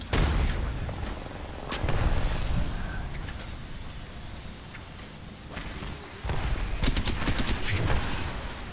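Grenade explosions and gunfire in a battle royale video game, with repeated bursts of crackling fire and dull booms, fading between volleys and then returning loudly.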